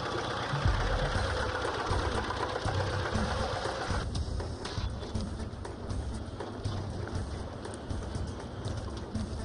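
A diesel-powered vehicle engine runs steadily and loudly throughout, a dense continuous rumble with no pauses and no voices.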